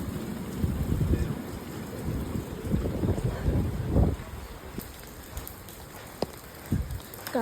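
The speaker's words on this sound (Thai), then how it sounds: "บรรยากาศฝนตก" Rain falls during a storm on an island, a steady wet patter with wind buffeting the microphone, plus a few sharper drips and splashes toward the end; no one speaks.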